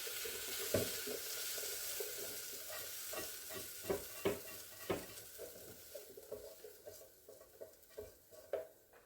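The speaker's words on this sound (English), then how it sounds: "I love the smell of onions and garlic cooking together" Onions and garlic frying in a pan, a steady broadband sizzle with a run of soft, evenly spaced stirring scrapes and taps growing more distinct toward the end, close and fairly quiet.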